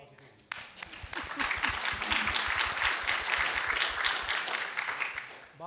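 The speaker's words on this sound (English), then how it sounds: "Let's give you a round of applause" Audience members applaud two speakers after a question session at a Google event in Atlanta. A voice speaks briefly, then clapping swells and holds steady for several seconds before tapering off as talk resumes.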